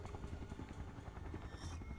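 Helicopter in the SCP Containment Breach video game, a steady loud rotor drone with a pulsing low chop that holds throughout, with no voices.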